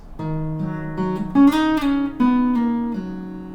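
A single guitar chord rings out, then slides down and ends with a quick pull-off, the notes sustaining clearly with no talking.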